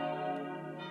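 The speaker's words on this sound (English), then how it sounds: "That's the sound of bells here at the Church of the Holy Sepulchre," Church bells ring at the Church of the Holy Sepulchre on Palm Sunday, a sustained, loud, resonant peal with rich overlapping tones filling the whole second, heard alone without talk.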